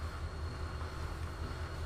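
A train rumbles past in The Walking Dead video game, a steady low roar with a constant mechanical drone, loud and continuous throughout with no voices.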